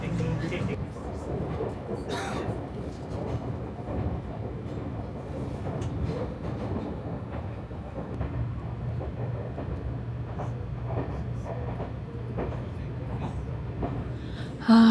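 Steady rumbling ride inside a subway train in Nagano, a continuous low drone with rattling and a sustained hum throughout, fairly loud, with faint voices in the carriage.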